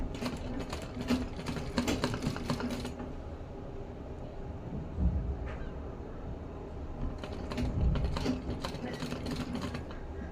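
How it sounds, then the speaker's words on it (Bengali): A domestic sewing machine stitches a dress for a three-month-old baby in rapid rattling bursts, first for a few seconds, then a pause with faint handling, then another quick run near the end. "সেখান থেকে আবার সেলাইটা শুরু করলাম"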